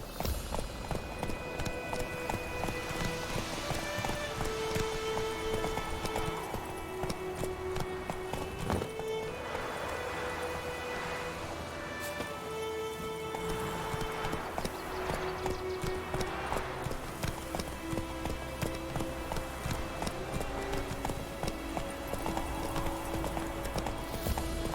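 Roach, the horse in The Witcher 3, gallops with loud, rhythmic hoofbeats under a game music score, with a brief whinny and no voices.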